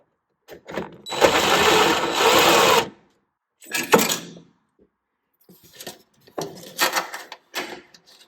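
A power drill backing the center screw out of a GE stacked washer-dryer laundry center, with one long whirring burst followed by several shorter spurts and clicks of handling between them.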